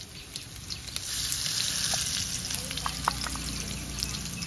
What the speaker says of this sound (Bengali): আলুতে একটু লবণ হলুদ দিয়ে ভেজে নেব।